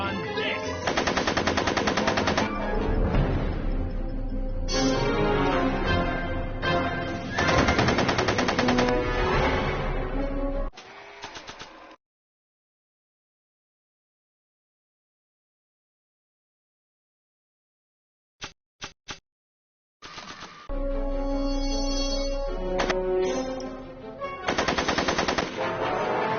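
Machine-gun fire rattles in a video game based on Back to the Future. Long loud sustained bursts are separated by a stretch of silence, with a few isolated shots before the firing resumes.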